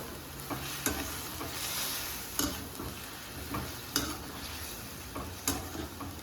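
Fried chicken is placed into a thickening gravy in a pan over full flame. A soft, steady bubbling sizzle plays under periodic metallic scrapes and clinks of stirring.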